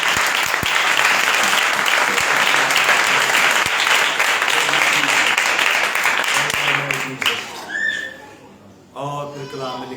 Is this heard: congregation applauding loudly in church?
yes